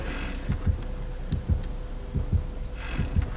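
Terror radius heartbeat from the Dead by Daylight video game, approaching the chainsaw killer: low, heavy double thumps pulsing steadily about every 0.8 seconds over a faint hum, with no talking.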